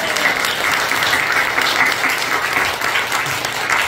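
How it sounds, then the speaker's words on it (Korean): A church congregation at a joint Sunday worship service claps loudly and steadily throughout, a dense, sustained wash of applause filling the space with no voice standing out. "여러분, 그 하나님을 위하여 영광의 박수를 올려드립시다."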